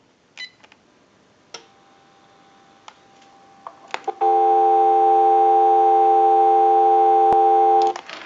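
Steady electronic dial tone from a General Electric cordless telephone, starting after a few clicks and button ticks, holding evenly for several seconds before cutting off with a final click.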